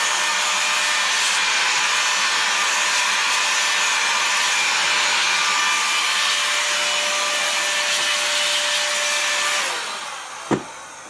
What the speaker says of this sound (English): what you should do is you should get the duster